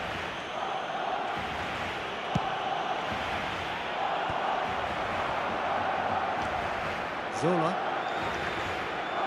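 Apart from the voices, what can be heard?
stadium crowd in eFootball video game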